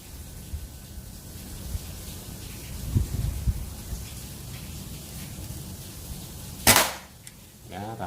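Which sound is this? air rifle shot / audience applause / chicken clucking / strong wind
air rifle shot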